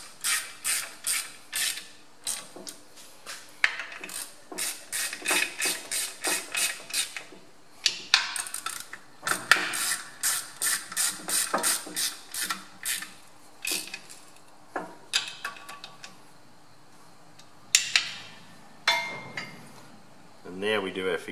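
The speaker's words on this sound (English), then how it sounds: "I will tighten this other couple of screws down." Screws being tightened on a Ferguson TE20 clutch pressure plate, heard as long runs of rapid ratchet clicks in bursts with brief pauses and a few metallic clinks, close and clear.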